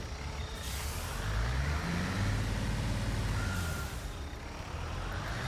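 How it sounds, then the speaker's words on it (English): In the Construction Simulator game, a truck's engine drones loudly as it shifts into drive, a continuous rumble whose pitch rises and falls, with hissing bursts near the start and end. "Damn truck when it shifted to drive."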